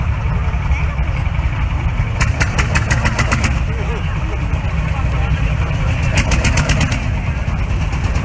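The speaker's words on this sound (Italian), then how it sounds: "con un trattore Landini" A 1952 Landini L45 tractor runs at an agricultural fair machinery blessing, its engine a steady loud low chugging with rapid knocking pulses that come and go over background crowd noise.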